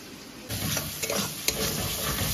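Ginger-garlic paste dropped into hot oil with spices for mutton keema, the sizzle jumping louder as it lands, then continuing steadily with light stirring scrapes, close and unbroken, no talking.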